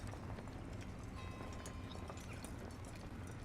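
A horse's hooves clip-clopping at a steady pace, soft rhythmic knocks blended into a busy, noisy background.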